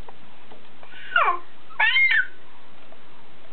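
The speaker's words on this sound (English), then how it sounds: "The kitty cat came." A house cat meows twice in the morning, two clear, drawn-out calls about half a second apart, close by against a quiet room.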